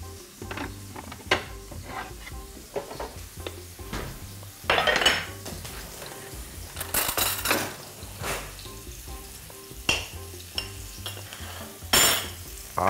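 Mushrooms fry in a pan, with a soft sizzle beneath repeated clinks and scrapes of a utensil stirring against the metal, in irregular bursts of louder clatter, and no talking.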